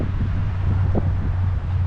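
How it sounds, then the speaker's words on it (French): Strong gusty wind of about 50 km/h, gusting to 55, roars steadily against the microphone outdoors, a dense continuous rumble with a faint low hum underneath and no voices. "Et donc il y a pas mal de vent, à peu près 50 km/h."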